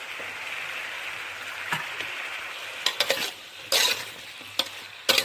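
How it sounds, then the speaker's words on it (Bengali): Chopped tomatoes and chillies tumble into a pan of fish curry, setting off a steady sizzle with sharp bursts of spatter and stirring clatter, close and fairly loud, without any talking. "এবার এর মধ্যে ঢেলে নেবো কেটে রাখা টমেটো আর লঙ্কাগুলো।"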